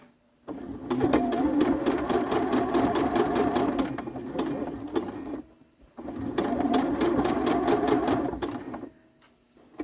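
Sewing machine stitches a quilt box in two sustained bursts of rapid, rhythmic needle clatter, each a few seconds long and separated by a short pause.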